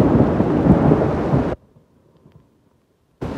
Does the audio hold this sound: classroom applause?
no